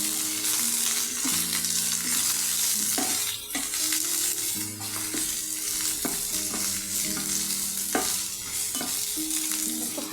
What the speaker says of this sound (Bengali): আর দিয়ে দিব বেগুনটা, দিয়ে একটু হালকা ভাজা ভাজা হবে